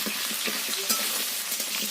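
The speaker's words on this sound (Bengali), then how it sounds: "আলুগুলোকে লাল লাল করে ভেজে নেব" Salted potatoes fry in hot oil in a pan, giving a steady, close sizzle with light stirring clicks throughout and no voices.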